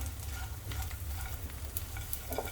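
Gond, an edible gum, fries in hot ghee over a low flame, giving a soft, even sizzle with light crackles and stirring close by.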